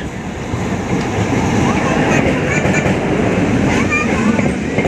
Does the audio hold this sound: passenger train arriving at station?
yes